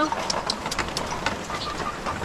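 Steady rain falling outdoors in a rural province during rainy weather, a dense continuous patter with scattered louder drips and no speech over it.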